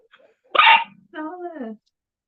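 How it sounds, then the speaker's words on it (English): A dog vocalizes in two short bursts close by: a sharp bark-like yelp followed by a rising, tonal howling whine, with quiet room surroundings. "That is the dog singing."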